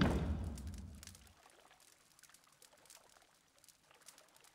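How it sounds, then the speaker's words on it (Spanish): Ocean waves wash in Pillars of Eternity: a single swell of surging water fades to a faint trickling wash and lingers quietly for several seconds. "Oleaje."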